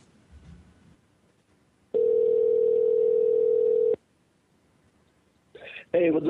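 A telephone dial tone sounds while a live radio call-in show dials out to a guest. One steady, loud, unbroken tone lasts about two seconds and cuts off into near silence, followed by a few brief clicks and sounds.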